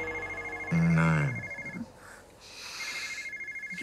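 A mobile phone rings from a bedside nightstand in a bedroom, a loud electronic ring with a sustained tone burst, followed by a quieter second ring pattern.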